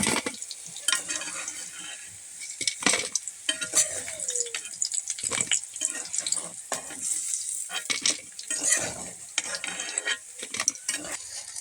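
Fish frying in hot oil with a soft sizzle, broken by clinks and scraping as the pieces are lifted out of the pan, close and fairly quiet, no talking.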